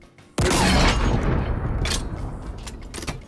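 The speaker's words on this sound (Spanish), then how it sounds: "los diseñadores añaden sonidos de ciencia ficción para crear una sensación alienígena del arma." Sci-fi weapon firing in the video game Halo, built from designed alien-sounding layers: a sudden loud blast erupting after a brief quiet, then a long roaring, crackling decay with a few sharp follow-up bursts near the end.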